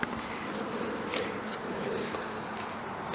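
Solitary nesting bees buzz around a bee block in a park, a soft, steady insect hum with close wingbeats passing by at moments, and no talking.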